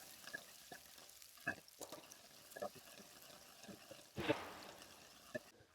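Shallots frying in hot coconut oil for a beef curry, a soft sizzle broken by several sharp stirring scrapes and clatters, fairly faint overall.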